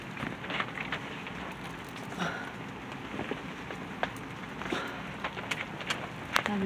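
Rain falls outdoors, a steady soft hiss with scattered nearby drops tapping on surfaces, continuous and moderately quiet throughout.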